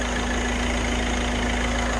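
A used Kia Pride engine idles smoothly and quietly from cold, a steady low hum with an even pulse and no knocking or other sounds.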